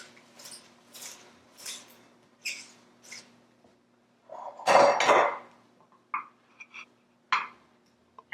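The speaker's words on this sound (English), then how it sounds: "pour over your popcorn in small amounts and then stir so you can get everything coated" Caramel-coated popcorn rustles and crunches in a pot as it is stirred with a utensil, with short scattered scrapes and one louder, longer churning burst midway, close and fairly quiet.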